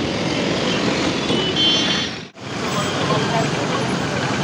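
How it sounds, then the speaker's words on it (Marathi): Dense road traffic in a congested city jam beside metro construction works, a steady wash of engines and truck rumble close by, briefly cut off by a short gap midway, with no clear speech over it. "शेवटी पहिलाच ट्रॅफिक भेटला आहे आपल्याला"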